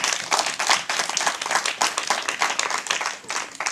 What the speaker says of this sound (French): Tu vas applaudir la parole de Dieu.